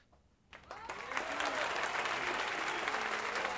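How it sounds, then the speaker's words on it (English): A crowd bursts into applause after a brief quiet start, the clapping swelling quickly into a dense, sustained roar of many hands that holds steady to the end. "Applause, please, Justin."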